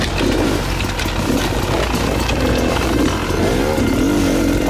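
An enduro motorcycle ridden hard off-road on a Canadian trail, its engine loud and close throughout, rising and falling in revving surges with no talk.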